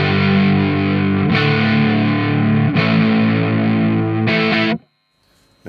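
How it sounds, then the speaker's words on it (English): Electric guitar played through the dirty, distorted channel of an amp, with thick sustained chords restruck about every one and a half seconds, loud and alone, ending in a sudden cut to near silence. "so now we're in the dirty channel, which sounds like this"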